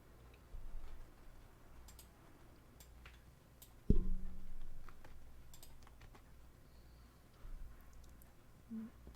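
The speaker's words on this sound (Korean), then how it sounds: "타이핑을 굉장히 빨리 했죠?" Rapid keyboard typing into Visual Studio Community, a quick irregular patter of light clicks over a faint room hum, with a couple of louder thumps along the way.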